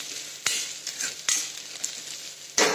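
Onion frying in a pan for potato bread vada makes a constant close sizzle, broken by about four sharp spatula knocks and scrapes as it is stirred.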